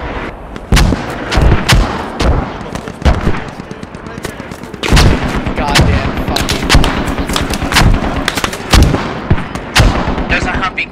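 Mortar strikes explode in a tactical multiplayer squad game, with repeated heavy booms and gunfire cracks landing in irregular bursts across the whole stretch, loud and close, while voices talk in the background.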